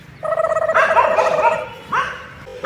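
A black dog with a little white at its throat barks outdoors in the Himachal hills, a few loud close yaps and bow-wows in quick succession with short pauses between.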